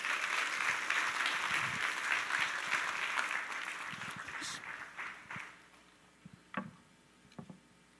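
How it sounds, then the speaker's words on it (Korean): Audience applause in a church worship service welcoming a missionary to the stage, a steady wash of clapping that gradually fades into a few scattered claps and small knocks near the end. "나오실 때 박수로 우리 환영해 주십시오."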